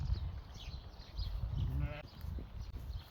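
Sheep and late-born twin lambs bleating on a New Zealand farm in late October, a few short calls rising over steady outdoor noise with a person talking nearby.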